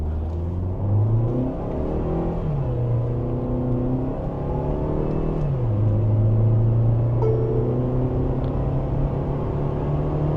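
A Tata Harrier petrol SUV in sports mode and manual accelerates hard from 0 to 100, its engine revving up through the gears with a loud, steady drone and clear drops in pitch at each shift.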